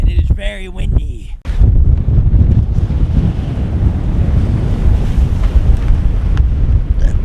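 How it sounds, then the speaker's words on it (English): Strong wind roars across the microphone beside the ocean, a loud, steady rumble with surf mixed in, after a brief muffled voice at the start. "And it is very windy."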